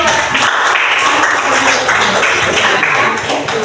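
Students in a classroom clap for a presenting group, a close, continuous round of clapping with faint voices mixed in.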